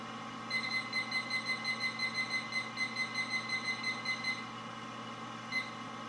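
A digital brewing timer, dropped on the floor during a Black IPA brew day, beeps in a rapid regular series of short high electronic chirps for several seconds, stops, then gives one last brief beep.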